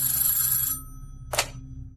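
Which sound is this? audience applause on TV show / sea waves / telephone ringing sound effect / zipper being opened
telephone ringing sound effect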